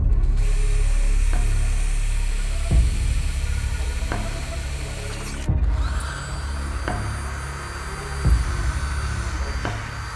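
A power drill bores holes in a PC case motherboard tray, with short, sharp drilling bursts and clicks every second or so against a steady background hum.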